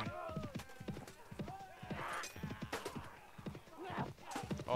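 Horses in a battle in the game Mount & Blade: Warband, with rapid hoof clip-clops, whinnies and neighs, and some speech-like vocal sounds mixed into the busy, dense game audio.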